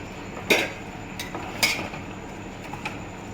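A spoon works Kashmiri red chili powder into a potato and onion filling for aloo pyaz paratha, giving a few sharp clinks and scrapes against the bowl over a quiet kitchen background.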